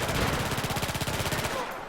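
Rapid submachine gun fire in the video game Battlefield 4, a fast steady burst of close, loud shots lasting under two seconds.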